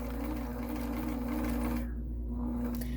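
An Elna Supermatic sewing machine stitches with the stitch lever at position 4, a steady close hum with rapid needle clatter that stops partway through.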